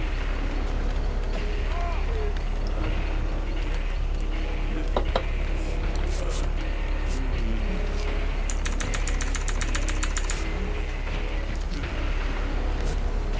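A generator in the video game Dead by Daylight keeps up a continuous low mechanical rumble, with occasional clanks and rattles over it and a player talking throughout.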